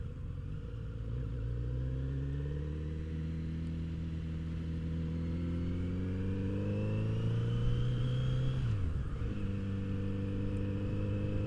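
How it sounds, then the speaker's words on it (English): A Kawasaki Z900 RS motorcycle on its stock exhaust pulls through the gears while being ridden, its engine note climbing in steady rising sweeps, loud and close, with a brief shift dip near the end. "just such a great sounding exhaust stock too"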